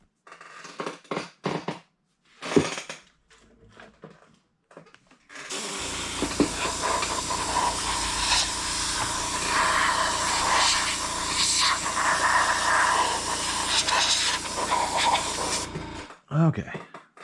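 Spray gun painting a project, giving a long steady broadband hiss that runs for about ten seconds, bracketed by brief talk at the start and end.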